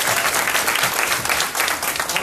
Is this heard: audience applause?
yes